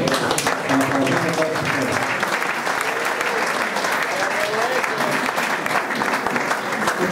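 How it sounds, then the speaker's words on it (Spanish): A conference crowd at a music union event in Acapulco claps for the national leader, a loud, continuous burst of applause lasting around seven seconds with no talk over it. "Por favor, un aplauso."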